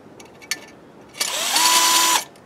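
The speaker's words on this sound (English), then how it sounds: "so I took my drill" A power drill bores an angled hole into wood inside an old 1901 barn: a few light handling clicks, then a loud steady motor whine for about a second that cuts off abruptly.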